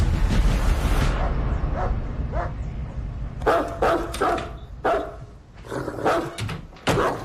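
A dog barks in a house, with several sharp, loud barks in uneven bursts over low background rumble, close by.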